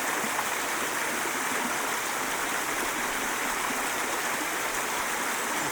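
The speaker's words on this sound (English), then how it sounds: "hanging out in this creek, and I'm a long way up the creek." A creek high up near the source of the Clarence River rushes steadily past, a constant close wash of flowing water with no breaks.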